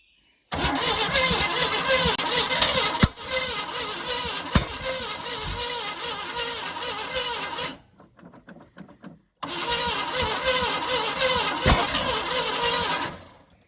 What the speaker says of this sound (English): So now we're fully ready to try and start this thing for what we know is the first time in 15 years.